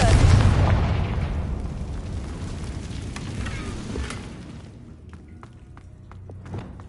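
A Confringo blasting spell explodes in Hogwarts Legacy with a loud booming burst up front, then a rumbling decay fading over several seconds while a few small crackles and pops trail off.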